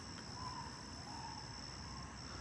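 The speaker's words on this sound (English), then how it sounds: "There's a cricket really close to me, and he's loud." A single cricket chirps loudly and steadily very close by on a quiet night outdoors under the moon, its shrill trill continuous throughout with no talking.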